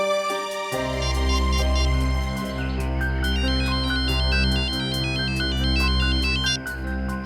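A phone ringtone plays during a call, a loud, close melodic electronic tune looping steadily for several seconds with a brief break near the end, no voices over it.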